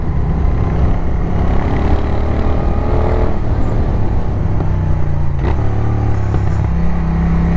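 Moto Guzzi V7 Racer motorcycle engine running loud and close, steady throughout with uneven engine tone and a few brief popping bursts.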